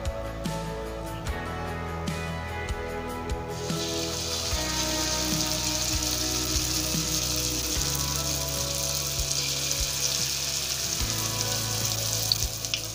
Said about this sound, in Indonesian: minyak goreng ini udah panas ya, kita masukkan aja ya teman-teman